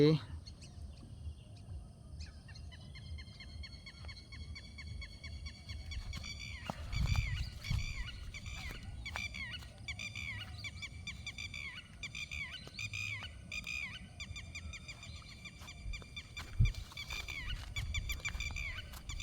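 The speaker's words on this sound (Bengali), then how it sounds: "আকাশেও দেখা যাচ্ছে কিছু পাখি উড়ে যাচ্ছে" A flock of birds calls in a nesting area at Bindubari village, Sreepur, Gazipur, Bangladesh. Many repeated honking, squeaky calls overlap continuously at a moderate distance, with a low voice faintly underneath.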